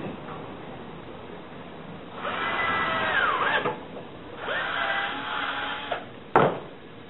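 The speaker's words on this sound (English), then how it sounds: "but drill a hole first." A drill bores a hole through wood for the trigger opening of a wooden prop gun, two steady whirring bursts close by with a faint knock between them and a sharp clack at the end.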